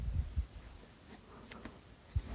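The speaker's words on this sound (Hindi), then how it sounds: "चलिए यहाँ पे लिखते हैं" Pen or pencil writing on paper while working through a maths problem on linear equations, a few soft scratchy strokes, close and quiet, with no talking.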